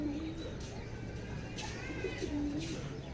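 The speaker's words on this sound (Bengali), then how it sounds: "এটা একটা আমার একদম অরিজিনাল পিওর বন কবুতর" A wild pigeon perched on a bucket on a rooftop gives soft, low cooing calls in short phrases, faint against a steady background hum, with some quiet voices in the background.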